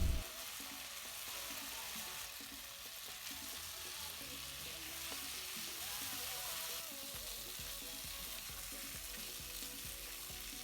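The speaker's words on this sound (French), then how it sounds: "Continuez de remuer la viande sans ajout de matière grasse pour ainsi la faire rissoler." Pork browning in a pan with no added fat while being stirred, a faint, steady crackling sizzle with soft scraping throughout, no voices.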